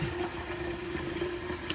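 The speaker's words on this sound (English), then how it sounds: "now I'm going to fill this up with the water" A jug being filled with tap water while a betta fish tank is set up, a steady close rushing flow with a faint rising tone as the container fills, continuous and without speech.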